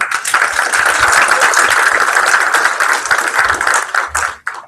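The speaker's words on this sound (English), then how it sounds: "So give him applause." Dense audience applause for Thomas Hoos at a UAT Game Studios greenlight pitch session, loud and steady clapping that carries on for several seconds before tapering off at the end.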